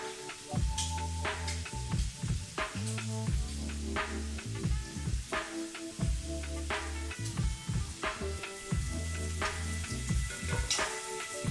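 Shrimp and zucchini sizzle steadily in a hot pan, with a loud, continuous frying hiss broken by clattering stirs and the scrape of a utensil against the pan, and no voices.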